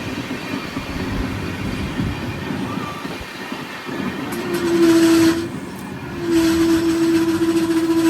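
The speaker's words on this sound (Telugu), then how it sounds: "సడన్గా బ్రేక్స్ అయితే అప్లై చేశారు. మీరు సౌండ్ కూడా వినొచ్చు వాటిని." Devagiri Express braking hard at speed: a rolling rumble of rail cars, then two drawn-out metallic brake squeals, the second lasting to the end.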